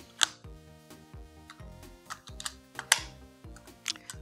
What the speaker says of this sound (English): I'm gonna install the battery right now.